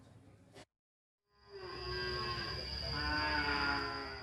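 Cattle at the Manon Jaya livestock market in Tasikmalaya give a long, drawn-out moo that rises out of a brief silence and holds for several seconds, with a murmur of crowd noise beneath it.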